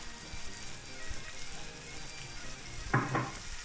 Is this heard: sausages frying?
yes